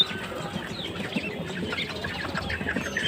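Chickens clucking amid the steady hubbub of a Tuesday bird market, with ducks also for sale; a dense mix of short clucks and calls runs throughout, fairly close and continuous over background crowd noise.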